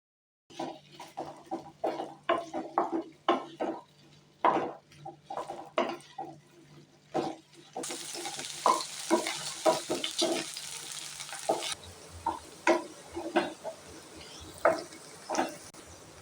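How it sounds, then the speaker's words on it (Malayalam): Chopped okra, about 300 grams cut into large pieces, goes into hot oil and fries in a pan, giving bursts of crackling, popping sizzle close by that settle into a steadier hiss, with occasional utensil clatter. "എണ്ണ ചൂടായി കുറച്ച് വലുതായി അരിഞ്ഞ വെണ്ടക്ക ഇതിലേക്ക് ചേർത്ത് കൊടുക്കാം"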